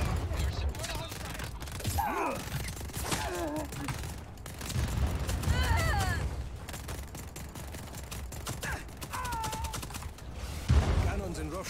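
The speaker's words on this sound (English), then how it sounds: "Shooting my cannon." Cannon blasts and surrounding gunfire from the open-world action game Just Cause 4, a steady loud barrage of booms and shots through the whole stretch, with game voices and a commentator talking over it.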